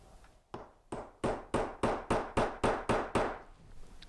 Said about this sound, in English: I'll take a center punch and center punch the center of those nails